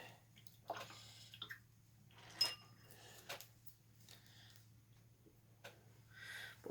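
A paintbrush is swished and rinsed in a small container of water, giving several brief splashy sloshes and light clinks spaced apart over a steady low hum, close and quiet.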